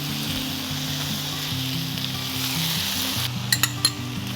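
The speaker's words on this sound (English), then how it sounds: "Fry onions in oil." Onions fry in hot oil with a little oyster sauce, giving a loud, continuous sizzle over a low hum, with a few sharp utensil clinks against the pan near the end.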